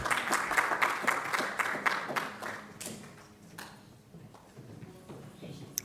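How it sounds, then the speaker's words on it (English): Audience applause at a symposium, starting as a burst of clapping close by that thins out after a few seconds into scattered claps and quieter room noise. "I just wanted everyone to give one round of applause to our sponsors."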